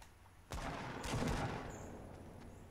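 Gunfire rings out in Fortnite during a match. A few sharp, distant shots crack over a low background, with one burst near the start and more clustered reports a moment later, fairly faint overall.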